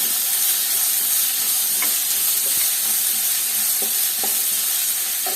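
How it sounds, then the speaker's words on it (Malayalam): Finely chopped onions sauté and sizzle in a pan for a prawn masala, a loud, steady frying hiss with occasional stirring clicks and no talking. "സവാള ഇത് നന്നായിട്ട് വഴറ്റിയെടുക്കാം"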